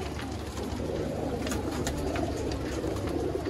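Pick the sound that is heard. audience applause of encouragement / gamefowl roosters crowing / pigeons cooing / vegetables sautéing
pigeons cooing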